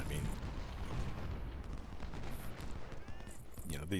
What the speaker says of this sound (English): we're just going to pound these guys as much as we can with as much rifle and canister fire as we can